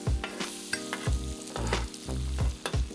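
Eggs scrambled with spatulas on a Steelmade flat top griddle for hibachi shrimp fried rice: loud close sizzling under rhythmic metal spatula scrapes and chops, repeating about every half second.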